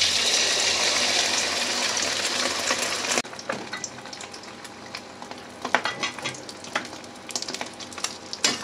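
Eggs mixed with naem hit hot oil in a pan, giving a loud, dense sizzle that settles into a steady crackling fry with scattered pops, close and without talk.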